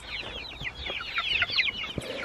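Meat chickens cluck and chatter continuously inside a chicken tractor on a farm, a busy flock close by with overlapping calls and no talking.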